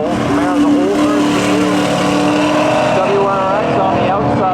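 Engines of a Subaru WRX and an old Camaro race car revving and roaring at a spectator drag race, loud and continuous under an announcer's steady commentary.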